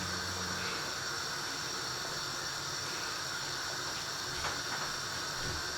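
Jamaican-style chicken soup heating in a pot toward a boil, a steady broad hiss with soft bubbling and faint clinks, constant and fairly close.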